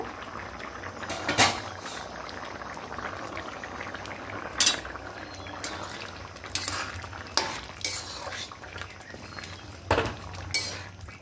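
Mung and chickpea dal with vegetables cooking in a pot: a low bubbling and simmering bed broken by several loud clanks of a metal lid and spoon against the pot, close by, with no talking.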